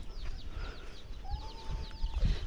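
A rooster crows once in a drawn-out call at moderate distance, with bird chirps and low background rumble around it.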